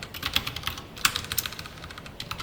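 Code is typed on a computer keyboard in a steady run of light, quick key clicks with a few sharper strokes, close and quiet, with no talking.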